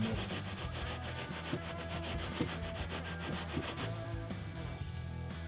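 A long ground leveling beam is rubbed back and forth along guitar frets, a steady close scraping and rubbing with a repeating rhythmic stroke pattern and no talk.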